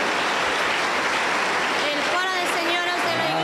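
A Pentecostal church congregation applauds in a dense, steady burst of clapping, and a voice starts speaking over it toward the end.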